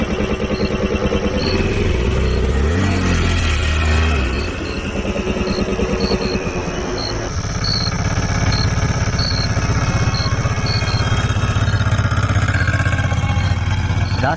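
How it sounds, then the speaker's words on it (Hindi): An auto rickshaw engine clatters to life and chugs steadily, loud and near. After a brief lull the note shifts into a busier running drone as it pulls away. "ऑटो में बैठते ही राजू भाई ने चुपचाप इंजन स्टार्ट किया"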